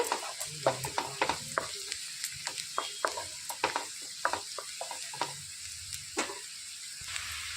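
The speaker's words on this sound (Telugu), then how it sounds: "ఇందులోనికి హాఫ్ టేబుల్ స్పూన్ పసుపు వేసుకోవాలి బాగా కలిపేసుకోవాలండి" Masala with turmeric frying for a capsicum egg curry is stirred briskly, the spoon tapping and scraping the pan in quick uneven strokes over a continuous close sizzle, with no speech.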